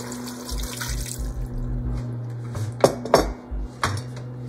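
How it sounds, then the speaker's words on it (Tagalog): Water from a tap runs into a metal pot while beef mechado is being cooked, with gurgling bursts, splashes and a few clinks of the pot over a steady background hum. "Tsaka po yung tubig para po lumambot."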